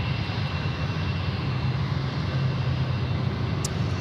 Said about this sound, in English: we've got a Jetstar 320 just rolling its way out here on Taxiway Charlie, right here in front of Sheps Mound, nice and close